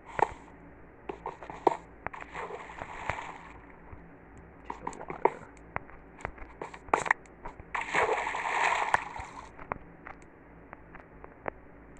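Water splashing in the video game Minecraft, repeated small splashes and sloshing clicks scattered throughout, with a longer, denser burst of splashing near the end.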